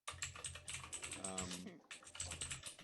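Quick bursts of typing on a computer keyboard during an online meeting, soft rapid key clicks coming in irregular runs, with a brief pause in the middle where a faint voice is heard.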